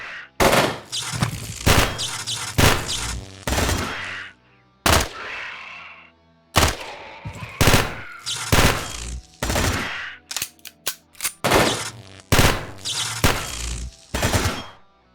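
Turret gunfire in the video game Quasimorph: loud, rapid bursts of shots in repeated volleys, separated by short pauses, with no talk.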